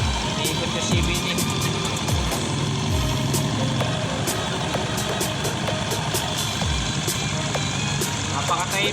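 A repaired CVT motorcycle engine idles steadily and very quietly nearby, a smooth low running hum with faint mechanical ticking throughout, and no talk over it.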